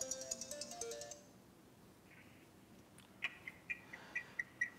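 Incoming-call ringtone on a tiny finger-sized BM10 mini mobile phone: a short melodic tone at first, a quiet pause, then a string of sharp repeated electronic beeps, faint and alone.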